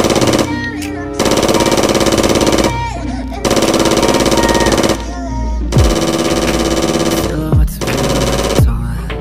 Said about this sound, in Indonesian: Wow, ada tembakan pistol Black Mamba warna krim.